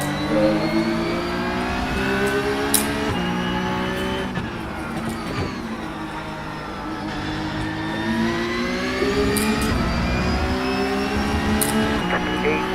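GT3 race car engine in iRacing revving and shifting continuously, a loud sustained whine rising and dropping through gear changes, with someone talking over it.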